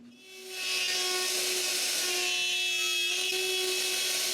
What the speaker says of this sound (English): this time is the router that moves instead of the piece of wood